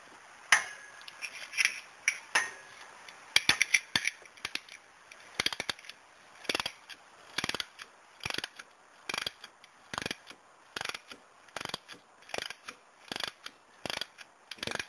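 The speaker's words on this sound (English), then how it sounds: "tighten the tension wrench until it reaches its setting" Rapid ratcheting clicks come in short bursts, close and crisp, from a torque wrench tightening the sump plug on a Hayabusa motorcycle, with no speech.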